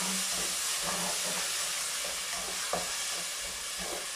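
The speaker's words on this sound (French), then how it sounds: "Alors, maintenant, je vais verser la tomate pelée." Canned whole peeled tomatoes pour into a hot pan, giving a steady wet sizzle and hiss with soft stirring clicks, close and fairly quiet, with no talking.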